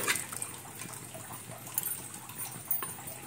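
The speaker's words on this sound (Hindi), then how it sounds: "अब थोड़ा डाल दी पानी ताकि मसाला बिल्कुल फिश में चला जाए" Water is poured into fish curry masala in a home kitchen, giving a faint, soft trickle and splash that stays low and steady through the moment.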